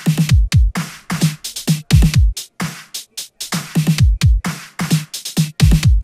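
Four EQ'd FL Studio drum tracks, kick, clap, hi-hat and snare, play a fast, punchy electronic beat with booming low kicks and crisp bright hits in a steady looping pattern, loud and alone.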